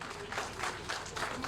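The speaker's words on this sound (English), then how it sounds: "Another clap for him." Faint, steady applause from a crowd at a civic gathering in Kambia, Sierra Leone, with continuous soft clapping heard at a distance.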